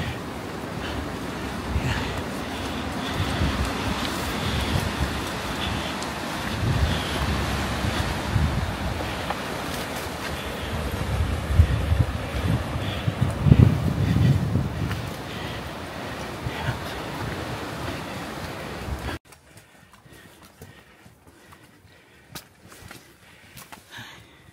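Strong wind gusts across a Mt. Pulag hiking trail during rainy weather, a loud, roaring rush buffeting the microphone for about twenty seconds before dropping to a faint hiss.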